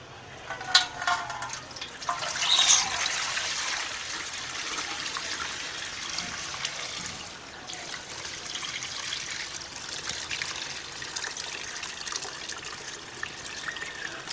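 Water is poured into a chilled summer sherbet mixture, giving a steady trickling, splashing stream with a louder gush early on, then a softer continuous pour, heard close up with no talk.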